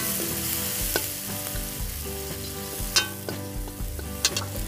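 Spices frying in hot oil for an Indian home lunch, a steady close sizzle with scattered spoon-stirring scrapes and clinks against the pan, no talking.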